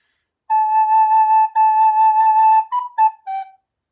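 A recorder plays a clear, pure tone held for two long notes, then a few shorter notes stepping downward, close and solo with no talking.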